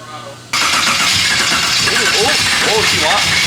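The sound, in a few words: LS3 V8 engine in BMW E46 starting up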